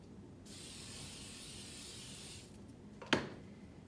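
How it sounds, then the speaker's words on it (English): A single long hiss from a spray can spraying a bowl, about two seconds, close by, followed by a short clunk. "I'm going to take a bowl, and I'm going to spray the bowl."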